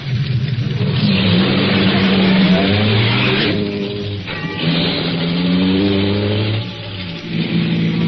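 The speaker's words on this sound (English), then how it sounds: "After I got the car back on the road again" Car pulling back onto the road as a 1942 radio-drama effect, a loud, close engine revving and accelerating with a brief skid-like scrape, then easing off and surging again.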